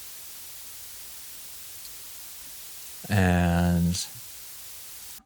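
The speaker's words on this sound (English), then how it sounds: "Gonna do just some white noise." A constant hiss of white noise, processed through the Goodhertz Tupe plugin, runs under the whole stretch. A brief spoken word cuts in near the end.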